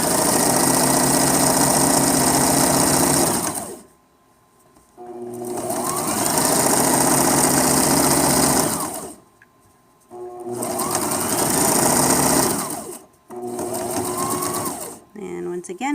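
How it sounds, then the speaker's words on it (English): A sewing machine stitches across fabric for a cozy sack in three loud, close bursts of rapid mechanical whirring, separated by short pauses, while a person talks between runs. "So we are going to put the foot down and we're going to sew all"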